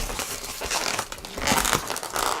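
A latex balloon twisted and wound twice around itself while building a rabbit balloon stick, giving close, continuous rubbery crinkling and squeaking with short louder bursts, no talk.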